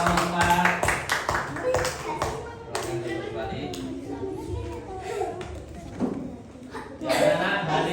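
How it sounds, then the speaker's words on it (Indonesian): A group claps in scattered applause for a student group's design presentation in a classroom, with children's voices chattering over the clapping throughout. "tepuk tangan buat kelompok 4"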